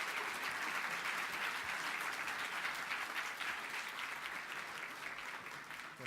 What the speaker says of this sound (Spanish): Agradecemos mucho a nuestros expositores, le damos un merecido aplauso.